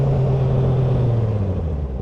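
A car rumbles past close by at a roundabout in Melbourne, heard from a Honda CBR650R motorcycle, its engine drone dipping slightly in pitch as it goes by under steady road noise.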